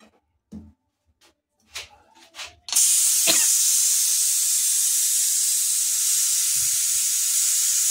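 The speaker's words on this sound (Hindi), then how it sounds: "और अब इस कुकर को मैं खोलती हूँ।" A pressure cooker used to boil sweet potatoes is opened, and after a few soft clicks and knocks a loud, steady hiss of escaping steam starts abruptly and holds close and strong for several seconds.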